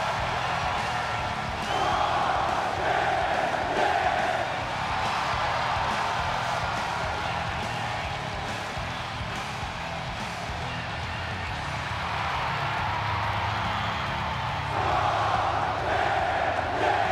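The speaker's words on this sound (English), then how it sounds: "The crowd are on their feet and are excited to see Rob Van Dam here with his debut." A wrestling show crowd roars and cheers steadily, with swelling waves of shouting and whooping from a large audience, sustained throughout without clear individual voices.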